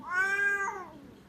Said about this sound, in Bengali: একটা দুষ্ট বিড়াল এটা